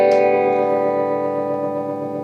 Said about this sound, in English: And I can turn off the reverb, so you can just hear just a tremolo.